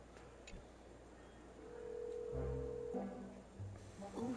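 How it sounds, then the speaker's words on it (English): A desk phone in Honkai Star Rail gives a steady dial tone lasting over a second, followed by faint clicks and soft rustling against a quiet room background. "This is the desk phone."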